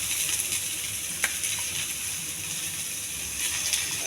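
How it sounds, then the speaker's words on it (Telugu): Cashews, chopped onions and curry leaves sizzle steadily in ghee, a continuous close hiss of frying with a faint clink or two, no voices. "కొద్దిగా గీ వేసుకోవాలి. కొంచెం జీడిపప్పు వేగించాలి."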